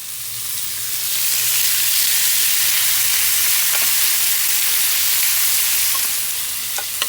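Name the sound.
chicken frying in oil and butter on a grill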